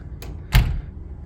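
A coat closet door in a Chicago hotel room at the Trump International Hotel & Tower opens with one short, muffled thunk partway through, near and fairly quiet against a low room hum.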